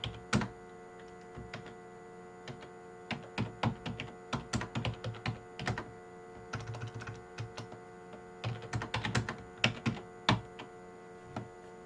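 Typing on an awful computer keyboard: close, clattering keystrokes in irregular bursts and pauses, some rapid runs and a few heavier thunks over a faint steady hum, with no voices.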